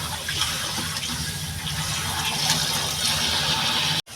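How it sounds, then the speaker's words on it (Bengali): Chopped sour spinach gets washed under running water, a steady rushing splash of the tap pouring continuously, close and fairly loud, ending in an abrupt cut with no speech. "আমার টক পালং শাকটা কাটা হয়ে গেছে আমি এই যে ধুয়ে নেব ভালো করে"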